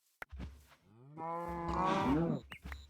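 Cattle moo in a modded Minecraft world, two long, drawn-out bellows with a tonal harmonic sweep, heard close and clear between brief game clicks and footstep thumps.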